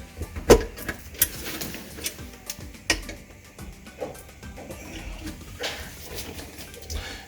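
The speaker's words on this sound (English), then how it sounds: "So what I'm doing right now is I'm causing the inner part of the garbage disposal to turn" An Allen wrench turns the inner part of a jammed kitchen garbage disposal from underneath the sink, giving scattered metallic clicks, knocks and scraping in an irregular rhythm, close and moderately loud, with no one talking.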